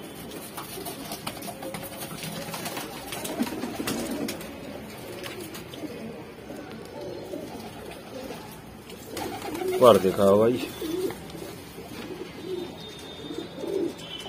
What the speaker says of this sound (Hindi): ठीक देख ले भाई कैसा खूबसूरत कबूतर।